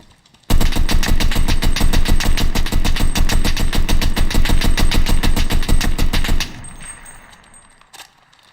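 An assault weapon in a video game fires a long, rapid, evenly spaced automatic burst for about six seconds, loud and close, before it stops and a short echoing tail and a faint click follow.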